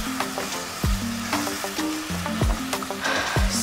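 Fish sauce seasoned with grated pepper sizzles steadily in a pan, with repeated scraping stirs and clinks of a utensil against the pan cutting through the frying hiss.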